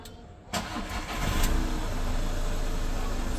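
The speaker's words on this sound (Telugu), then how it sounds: "సింగిల్ సెల్ఫ్ ఇంజన్ అయితే స్టార్ట్ అయిపోయింది." 2011 Volkswagen Vento Highline diesel car starting on a single crank: a brief starter whirr, then the engine catches and settles into a loud, steady close-up idle.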